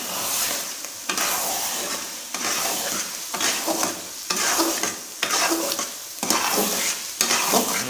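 Carrot halwa with eggs mixed in is stirred and cooked in a pan: loud rhythmic scraping strokes, about one a second, over a constant sizzle, with occasional light clinks of metal and no voices.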